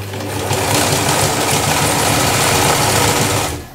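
A sewing machine stitching a repair on denim jeans runs in one continuous, loud, even whirring drone, close up, with no voices, before winding down at the end.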